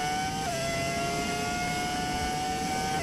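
A 2026-spec Formula 1 car's engine in the racing game F1 25 holds a steady, high, buzzing whine with dense harmonics. The pitch dips slightly early on, then stays level and loud for the rest of the clip.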